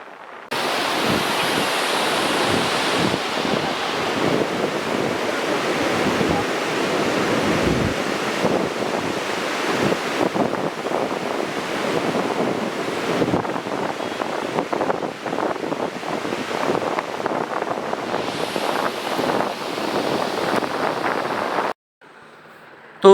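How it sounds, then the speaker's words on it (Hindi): Ganga river rushing where the Alaknanda meets the Bhagirathi at Devprayag, a steady broad roar of flowing water filling the scene close and loud, continuing unbroken for about twenty seconds before cutting off. "जहाँ पर अलकनंदा भगीरथी में मिल रही हैं और सीधे सामने ये गंगा नदी यहाँ से जा रही हैं"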